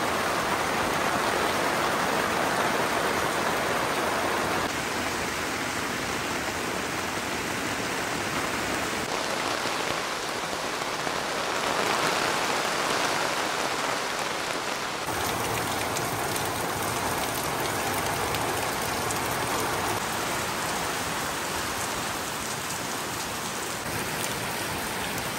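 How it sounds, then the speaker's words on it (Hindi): Heavy rain pours steadily over a campsite, a dense, unbroken wash of drops drumming on surfaces with no voices, loud and close throughout. "जितनी तेज़ बारिश हुई है ना"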